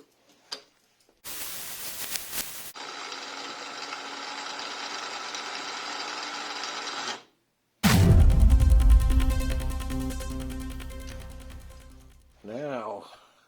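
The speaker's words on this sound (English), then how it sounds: "I think it's overloading because that gear doesn't sound too healthy." Mini milling machine fitted with a 3D printed gear, running with a steady whine, then pausing and restarting under a heavier, rougher load as it strains and overloads.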